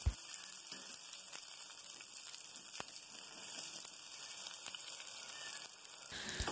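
Brinjal slices fry in hot oil with a faint, even crackling sizzle and a few soft pops throughout, quiet and without speech.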